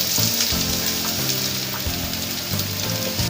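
Onion and ginger frying in mustard oil over a low flame, a loud steady hiss and crackle that fills the whole stretch without a break, with faint utensil movement underneath.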